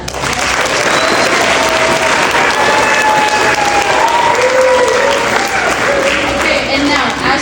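An audience in a school auditorium, with sixth graders of MS 172 present, applauds loudly after a video screening: dense, sustained clapping and crowd noise with faint voices, holding steady from start to finish.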